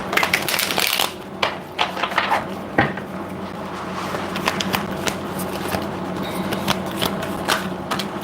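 Tarot cards being shuffled by hand: a close, busy run of crisp riffles and soft slaps that keeps going throughout, with brief louder bursts as the deck is split and bridged.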